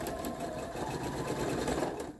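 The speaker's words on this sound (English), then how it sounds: "I'm going to pop them under and do my quarter inch seam" A sewing machine chain-stitches a quarter-inch seam through fabric pieces for a Dresden plate quilt block, running at a steady, close, continuous whir for about two seconds with no talking.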